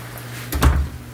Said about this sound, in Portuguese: Vou fechar essa porta aqui.